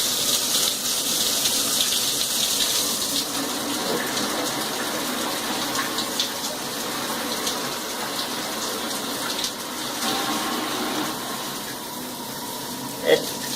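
An Aqua Elegante six-function luxury shower head sprays water at high pressure, a loud continuous hissing rush, steady and close, with one brief knock near the end and no talking.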